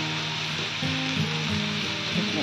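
Onions frying to a light brown in a pan, producing a dense, even hiss at close range throughout, with faint music or tonal sound beneath and no talk.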